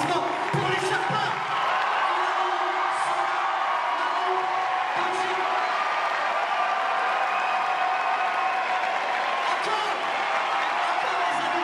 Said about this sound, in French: Faites un tonnerre d'applaudissements pour les Sherpas.